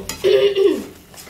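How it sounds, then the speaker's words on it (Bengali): Potatoes being stirred through a spiced gravy in a pot, a brief scrape and swish of a spoon against the pan with a soft clink, close by and short. "আলুগুলো এই গ্রেভিটার মধ্যে ভালোভাবে নাড়িয়ে চাড়িয়ে নেব।"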